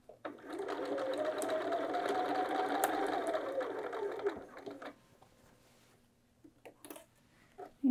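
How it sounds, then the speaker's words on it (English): A sewing machine stitches bias binding onto a bag handle, its fast, even motor whir running loud and close for about four seconds before stopping, then a few light clicks and handling sounds. "I just start sewing right at a quarter inch, and I am back tacking"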